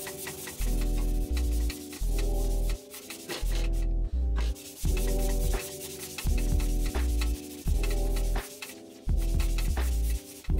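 Rust is scrubbed off a cast-iron bandsaw machine table in a workshop, making loud, close, rhythmic rubbing strokes in steady back-and-forth bursts with brief pauses between them.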